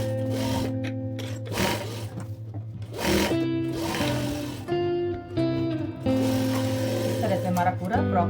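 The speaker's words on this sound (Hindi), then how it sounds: "इसी तरह से हम पूरा सिलाई मार के साइड ले लेंगे।" A sewing machine stitches the side seam of a patiala dress, its motor whirring in steady runs that stop and restart several times, close and clear, while someone talks over it.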